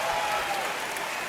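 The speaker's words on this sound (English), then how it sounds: "people clapping for this" A crowd claps steadily in a short stretch of played-back footage, a dense continuous wash of applause with no breaks.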